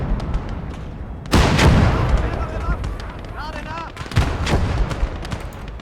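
In a war video game, anti-aircraft guns fire in sharp bursts and a bomb explodes with a heavy boom, with rapid gunfire continuing through the battle and a second blast later.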